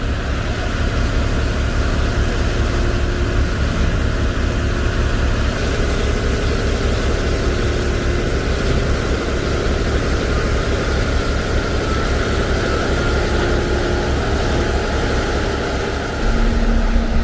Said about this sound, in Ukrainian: На протилежному боці від нас вже пробують шліфувати